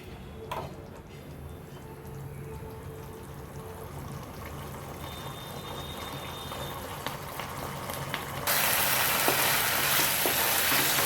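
Potatoes and spice paste with a splash of water frying in a pan for a fish, chicken and paneer meal, a steady close sizzle that grows louder and brighter near the end, with occasional ticks of stirring.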